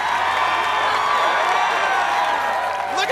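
An arena crowd at an American Ninja Warrior qualifier in Dallas roars and cheers, a loud, sustained wash of many overlapping voices and whoops with a few shrill shouts rising above it.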